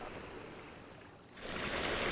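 Backyard stream and waterfall flowing over a stacked stone wall beside a patio, a steady rushing wash of water that swells louder partway through, with no talking.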